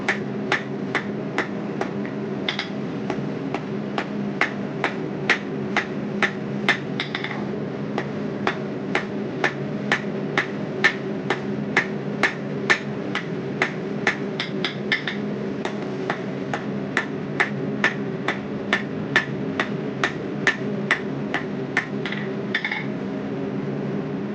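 Steady rhythmic hammer blows on hot steel as a blacksmith draws out a tine to length with a taper, striking roughly twice per second, close and ringing, over a constant low hum of forge blower noise.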